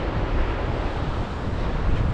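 Wind and waves on the Anami coast of the Sea of Japan in northern Hyogo: steady, loud, broadband roar of surf with heavy wind buffeting the microphone throughout, no talking.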